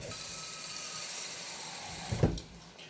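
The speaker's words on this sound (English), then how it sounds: "So I'm gonna put some water in here," Water runs steadily from a tap into a cooking pot in a school hospitality kitchen, filling it for steaming edamame, then a sharp clunk of the pot near the end as the flow stops.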